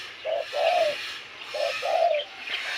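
Pet spotted doves and red collared doves coo close by in two soft, repeated phrases, each a pair of hollow, mellow notes, with no talking.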